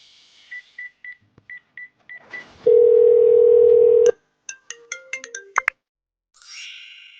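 A phone rings with a run of short repeated electronic beeps, then one long steady tone, followed by a quick burst of keypad-style bleeps and a brief warbling tone at the end, close and clear with no talking.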